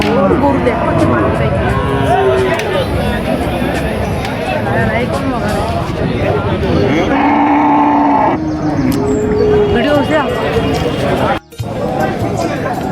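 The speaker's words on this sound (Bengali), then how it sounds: "এই যে গরু, অস্ট্রেলিয়ান পুরুষ গরু" At the Dariyapur rural cattle market in Gaibandha, Australian-breed bulls and other cattle give several drawn-out moos. Nearby voices chatter over the moos and a busy crowd murmurs behind them.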